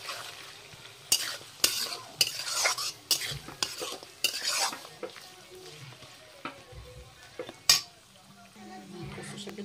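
Fish head frying in spice paste, stirred with sharp scraping clinks of a utensil against the pot in irregular bursts over a soft sizzle, with quiet talk in the background.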